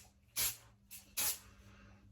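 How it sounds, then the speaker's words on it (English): Generic texture hairspray sprayed on hair from an aerosol can, three short hissing bursts, close and fairly soft, with quiet pauses between them. "I'm going to use the generic texture spray here."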